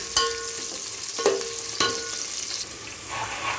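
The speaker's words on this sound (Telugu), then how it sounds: "ఇప్పుడు కొన్ని పచ్చిమిర్చి, అలాగే కొంచెం కరివేపాకు. ఇవి కూడా బాగా ఫ్రై అవ్వాలి." Green chilies and curry leaves frying in a pan for a plain biryani, a soft continuous sizzle close by with a few sharp clinks of a spoon against the pan, no voices.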